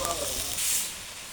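Chopped garlic dropped into hot oil with browned cardamom for a chicken curry, giving a bright, steady sizzle that swells briefly in the middle and then settles, close up with no talking.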